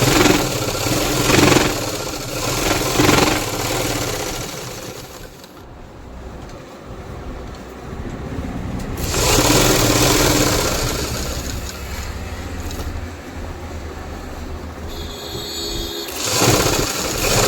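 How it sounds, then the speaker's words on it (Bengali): A sewing machine runs almost continuously, stitching the waist joint of a pair of trousers, with short pauses between its loud whirring bursts. "একদম 3 বার সেলাই আপনাকে দিতেই হবে, নাহলে এই জায়গাটা সবচেয়ে বেশি ফেটে যায়।"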